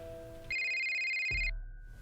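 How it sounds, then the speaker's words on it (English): A phone's electronic ringtone trills steadily for about a second in a quiet room, then cuts off as a low thump follows. "I hear my phone starts ringing"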